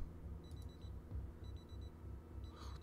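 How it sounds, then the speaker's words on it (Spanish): In the zombie survival video game Project Zomboid, an alarm clock rings faintly in repeated short beeping bursts over a low rhythmic background hum, with no talking. "Está sonando un reloj."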